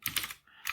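Quick keystrokes on a computer keyboard while entering a Linux boot command, a short burst of clicks, a brief pause, then a few more taps, close and fairly quiet.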